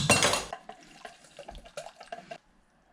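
A whisk works coffee and Hellmann's mayonnaise in a bowl: a loud opening scrape and clatter, then a run of light, uneven clinks and taps that fade out.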